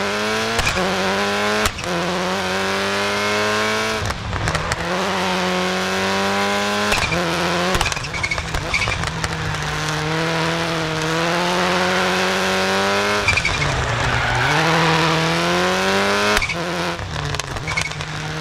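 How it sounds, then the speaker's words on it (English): Simulated 2001 Subaru Impreza rally car with a 300-horsepower engine, all-wheel drive and six-speed gearbox in the racing game Dirt 2.0, on a time attack stage in Spain: a loud, continuous engine roaring and revving, with repeated rising pitch sweeps and short dips at gear changes. "let's take this 2001 Subaru Impreza for a spin. It has 300 horsepower, all-wheel drive and 6-speed gearbox."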